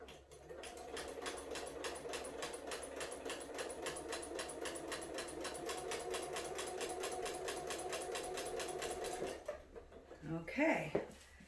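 A sewing machine stitches quilt binding in one steady run of rapid even needle strokes lasting several seconds, then stops; a voice speaks briefly afterward.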